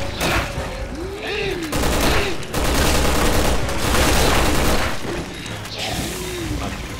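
Repeated gunfire and heavy booms from a Resident Evil 6 shooter level on PS4, loud bursts of shots in quick succession with crashing impacts, while someone talks over the action.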